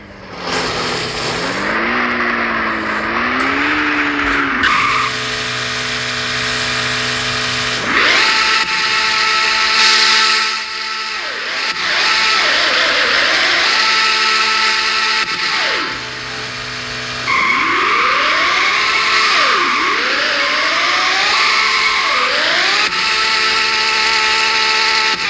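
A video game car engine revs hard toward 9,000 RPM in repeated rising and falling sweeps separated by brief lulls, loud and close, with no talking.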